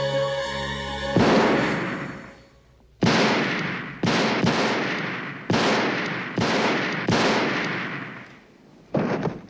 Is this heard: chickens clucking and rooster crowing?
no